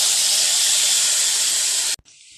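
Spice paste hits hot mustard oil, already frothy from frying shrimp, for a Bengali prawn and pumpkin curry, giving a loud, steady close sizzle for about two seconds before it abruptly drops to a quieter hiss.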